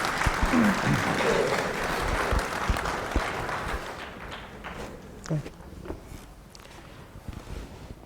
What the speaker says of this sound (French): Nous pouvons applaudir notre frère, notre sœur.